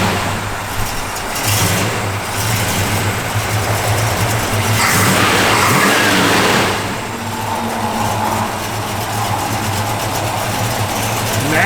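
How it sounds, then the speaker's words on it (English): 1973 Dodge Dart Sport with a 318 V8 and a lumpy cam, running with a low rumbling idle that rises in a revving swell midway, then settles back, close and loud. "Wait till Nathan fires this thing up. It's got a great sounding little 318 in it."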